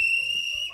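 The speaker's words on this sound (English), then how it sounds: "Do not blow that whistle." A whistle gives one short, shrill, piercing blast that holds steady and loud for under a second.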